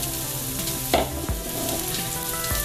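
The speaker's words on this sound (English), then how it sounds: "And we're going to saute them." Chopped leeks sauté in a pan with a loud, steady sizzle and frying crackle, broken by a couple of sharp stirring clatters, with no voices.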